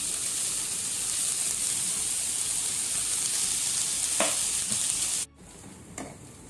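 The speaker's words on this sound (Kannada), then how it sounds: "ಈರುಳ್ಳಿ ಮತ್ತು ಬೆಳ್ಳುಳ್ಳಿ, ಶುಂಠಿ ಸೇರಿಸಿ ಇದನ್ನು ಬ್ರೌನ್ ಆಗೋ ತನಕ ನಾವು ಫ್ರೈ ಮಾಡಬೇಕು" Onion, garlic and ginger frying in a pan for mutton sukka, giving a steady, close sizzle throughout with a couple of brief stirring clinks near the end, a sudden drop in level, then quieter sizzling.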